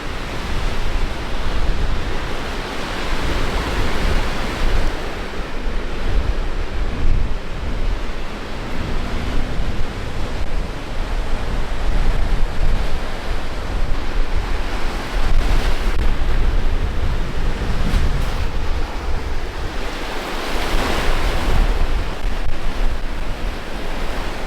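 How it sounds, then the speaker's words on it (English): Waves rolling onto a large lake shore give a continuous, loud surf roar with gentle swells in intensity, mixed with wind noise on the microphone and no voices. "Like being by the ocean, but weird knowing it's a lake."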